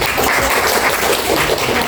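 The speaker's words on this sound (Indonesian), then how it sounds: "berikan dulu tepuk tangan" Applause from a classroom of students, a short, dense burst of clapping that stays steady throughout.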